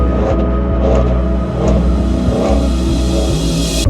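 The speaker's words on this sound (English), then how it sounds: "2018 Ford F-150 XLT, highly modified 5-liter V8." A highly modified 2018 Ford F-150 XLT with a 5-liter V8 runs loud and close on the Bonneville Salt Flats, its deep engine rumble steady throughout with slight surges in revs.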